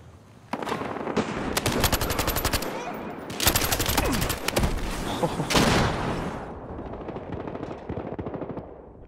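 Rapid automatic gunfire from a Battlefield Hardline match in Blood Money mode on The Block map, with dense overlapping bursts and sharp shots layered close and loud, some faint talk beneath.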